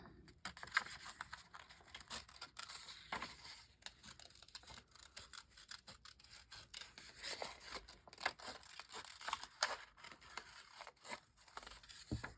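Scissors cut out a paper tag with soft, close snips and rustling paper in a quiet, continuous stretch of trimming and handling.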